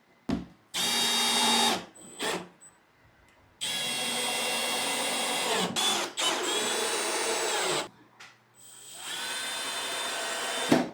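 A power drill drives screw A into the bottom of a furniture kit piece during assembly, with several loud whining bursts of varying length separated by short pauses, close up and without speech.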